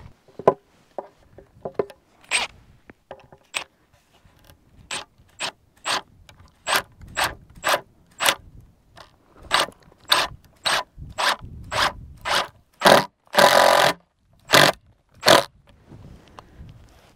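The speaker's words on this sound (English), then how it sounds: "I'm going to be using these kind of heavy-duty Timberlock screws to get them all the way in" Heavy-duty Timberlock screws driven through old charred board into cleats, heard as a string of loud, sharp mechanical bursts in a steady rhythm, one longer grinding run near the end, with no talk.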